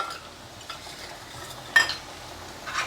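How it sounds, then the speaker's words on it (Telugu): Vadiyalu fried in a pan with onion, turmeric and chili powder, with a soft steady sizzle, a spoon stirring, and one sharp clink of metal partway through. "ఇవన్నీ వేసుకుని ఇవన్నీ వేయించేసుకుంటామే."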